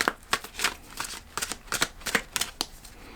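Tarot cards being shuffled in a run of crisp, papery riffles and slaps, about a dozen quick bursts spread irregularly across the moment, close and moderately loud with no voices.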